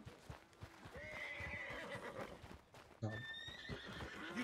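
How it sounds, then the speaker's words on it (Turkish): An Arabian horse in Red Dead Redemption 2 gives a clear, close whinny with clip-clopping hooves, followed by another shrill neigh over game ambience. "Abi o Arap atı mı ya?"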